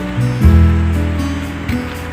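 Sea waves washing onto the beach at Hua Hin on a calm early morning, a close, steady rush of surf with a low swelling roll and no talking.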